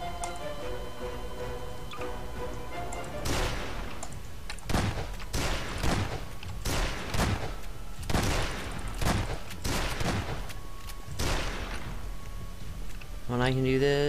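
Gunshots in Garry's Mod, a string of sharp separate shots spaced a second or so apart over steady game background noise, with a player talking throughout.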